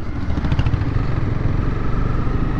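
A Honda CB300R motorcycle cruising smoothly in sixth gear, its engine a steady, loud, close drone with a road-noise rumble underneath and no talking.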